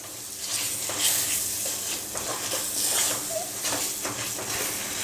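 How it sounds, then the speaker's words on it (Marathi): Small banana pieces sautéing in ghee-roasted semolina for sheera, a steady sizzle with soft stirring scrapes running throughout, close and moderately loud with no talking. "आता यात मी हे केळं टाकतो हे केळ्याचे मी बारीक पीसेस करून घेतले आहेत मंडळी हे पण आपण छान परतून घेणार आहोत"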